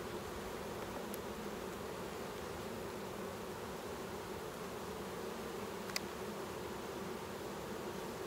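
Honeybees buzz around an opened, queenless hive during an inspection, a soft, continuous drone that stays steady and faint, with a couple of tiny clicks.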